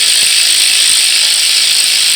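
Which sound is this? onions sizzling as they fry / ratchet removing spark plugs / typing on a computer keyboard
ratchet removing spark plugs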